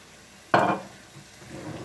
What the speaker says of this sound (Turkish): 4-5 tane sarımsak ince ince doğradık tavamıza aldık. Az bir zeytinyağı.